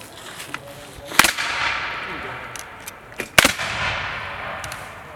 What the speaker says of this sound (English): If you give me a second, I'll load a few and show you how it shoots.